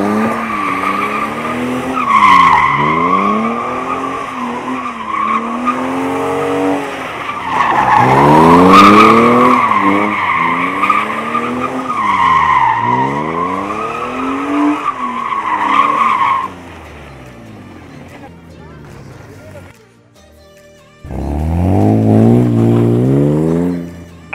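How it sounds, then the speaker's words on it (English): Several cars drift and do burnouts around a parked Audi R8 on the street, their tires skidding in loud, sweeping squeals over revving engines. A short lull comes near the end before another squeal starts. "they're going to drift around my car"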